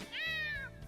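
Dusty the cat lets out a single short, clear meow in the Gravity Rush 2 video game, close and fairly quiet.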